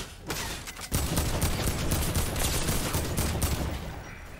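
A rail gun fires during a video game arena solo match: a sharp burst kicks in after a brief quiet lead-in, followed by a dense, sustained crackling barrage of weapon fire that slowly fades.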